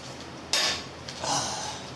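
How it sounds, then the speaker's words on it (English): A hot cooking pan being rinsed after breakfast cooking, with a sharp metallic clatter midway followed by a rushing splash of water in the pan, fairly close. "Rinse the pan real quick"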